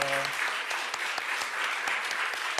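A Korean church congregation in Bloomington claps during a Sunday service in May 2023, brisk even applause from a mid-sized group heard close and continuously, with a brief tone at the start.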